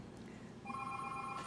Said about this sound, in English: oh, that's the phone call.